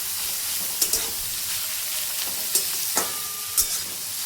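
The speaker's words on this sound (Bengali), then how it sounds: "এখন আমি সবজিটাকে ভালো মতন মজিয়ে নেব।" Onion, carrot and beans for street-style egg chowmein are stir-fried with a little salt, a steady hissing sizzle broken by several sharp spatula clacks against the pan; no voices.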